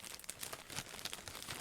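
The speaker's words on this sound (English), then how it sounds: "all you can hear is the bag rustling" A plastic bag held in the hand with the microphone rustles and crinkles in quick irregular bursts, close but faint and without any talk.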